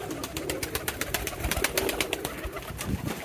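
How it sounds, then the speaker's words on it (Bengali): Peshawari pigeons coo softly nearby while quick rhythmic flaps and rustles suggest wings fluttering as they come to feed by hand. "এই যে আমাদের ককা কবুতর এটা দেখেন হাতে চলে আসছে খাবার দেওয়ার সাথে সাথে"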